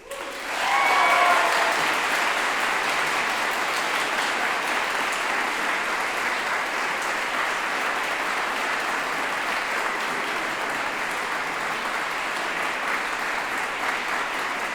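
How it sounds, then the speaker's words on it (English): Graduates at a graduation ceremony applaud their teachers, a loud, sustained wash of clapping from a large audience that swells quickly and holds steady for about fourteen seconds. "each time we've asked the graduates if they would applaud their teachers"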